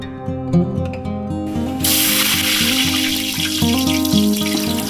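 Cinnamon, cloves and cardamom hit hot ghee and oil for biryani tempering, a sudden loud sizzle bursting in and hissing steadily over clinking, ratchet-like mechanical tones.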